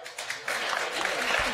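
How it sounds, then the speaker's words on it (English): A debate audience at a congressional district debate in Wisconsin breaks into brief, fairly faint applause, a soft scattered patter of clapping lasting about a second and a half. "Please hold your applause until the end."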